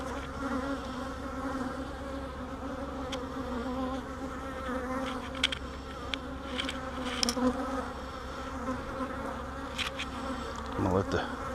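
Honeybees buzz steadily around an open hive during a split with a queen cell, a dense continuous drone with a few closer passes, faint and outdoors.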